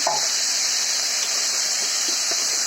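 Spiced masala and potatoes frying in a pan for a Bengali shorputi fish curry, a steady, close sizzling hiss with faint stirring scrapes running underneath throughout.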